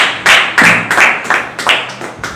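A small congregation at a midweek church service claps to welcome a guest, giving a few loud, close bursts of hand clapping in uneven, separate volleys.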